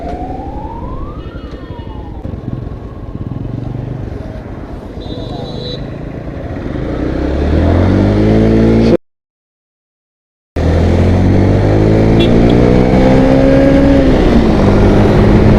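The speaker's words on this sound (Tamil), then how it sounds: "ஸோ 7000 RPMலேயே அடைக்க ஆரம்பிச்சிருது வண்டி" A Yamaha FZ X BS6 motorcycle engine revs while riding on the road, its loud, close pitch climbing through rising sweeps toward high revs, with a short dropout in the middle and a siren-like wail early on.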